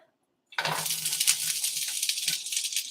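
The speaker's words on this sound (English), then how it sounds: "we're going to go ahead and dump this right into the skillet" Food tipped into a skillet lands with a sudden clatter, then a steady, bright sizzle and hiss carries on without a break.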